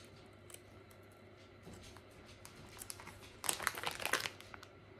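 A small plastic sample bag of wax melts crinkles close by in a brief flurry of rustling near the end, after quiet handling sounds in a calm room.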